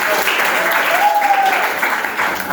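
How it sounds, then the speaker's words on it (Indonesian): Brief classroom applause from students at a junior high school, dense and fairly close clapping lasting a couple of seconds. "tepuk tangan dulu untuk"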